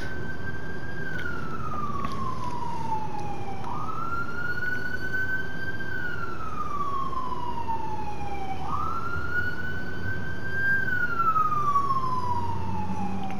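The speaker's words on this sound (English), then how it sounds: "Wonder if you can hear those sirens. It's not easy living next to the hospital." Emergency vehicle sirens wail outside near a hospital, a loud, steady rising-and-falling tone that sweeps up and down in long repeating cycles over a low traffic rumble, with no voices.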